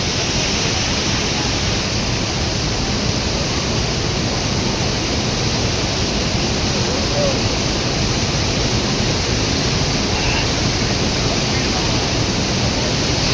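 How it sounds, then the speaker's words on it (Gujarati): Rushing water roars continuously from a waterfall in Canada, a dense steady broadband wash close by that fills the whole stretch. "કેટલું સ્પીડમાં પાણી આવે?"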